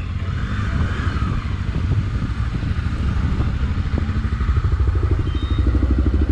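A motorcycle on a pilgrimage ride near Ouro Fino, Brazil, rumbles steadily up close while it pulls onto the roadside shoulder to park, with wind noise and a rough, continuous engine drone.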